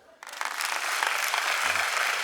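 A comedy show audience bursts into applause after a brief quiet start, building into a dense, loud, sustained wash of clapping that continues to the end.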